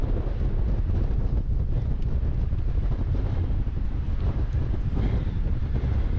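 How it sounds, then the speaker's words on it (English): Strong gusts buffet the microphone on the James River footbridge along the Appalachian Trail, a loud continuous low roar of wind noise with no pauses and no talking. "it's very windy out here."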